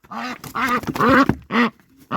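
A goose honks in a series of loud, nasal, raspy calls, close by, with short pauses between them.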